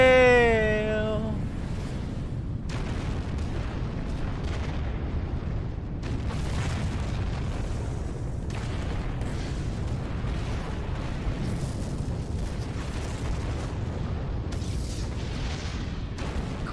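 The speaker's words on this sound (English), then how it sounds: "Cool guys don't look at explosions." Explosions in the video game Dragon Quest XI: Echoes of an Elusive Age, a dense run of booming, rumbling blasts with repeated bursts over about seventeen seconds, loud and continuous, opening with a brief rising tonal effect.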